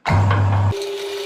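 Electric meat grinder forcing pork knuckle through a 5 mm plate for sausage, a loud steady motor hum with a deep drone that drops into a lighter, higher whine partway through.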